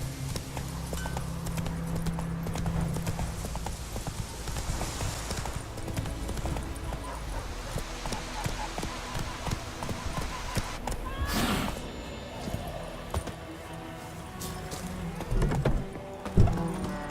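Hooves of the horse Roach clip-clop steadily in The Witcher 3 video game, a continuous trotting rhythm close by over busy ambient game sound, with a brief whinny and some speech-like voices in the mix.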